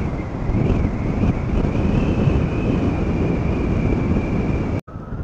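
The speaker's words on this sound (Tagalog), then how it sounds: "Ang lakas ng hangin" Strong wind near the Sierra Madre roars steadily across the microphone on a mountain ride, loud and unbroken for several seconds, with a faint high whine running through it and no voices.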